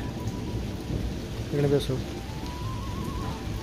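Heavy rain pours steadily in Kashmir while a deep roll of thunder rumbles through the middle; a voice briefly speaks in Hindi.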